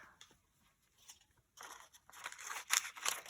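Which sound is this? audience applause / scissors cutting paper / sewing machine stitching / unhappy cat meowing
scissors cutting paper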